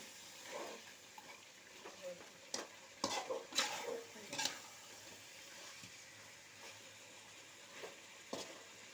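Spiced chicken pieces sizzle in oil while a spoon scrapes and stirs the pan, with scattered clinks and louder bursts of stirring in the middle.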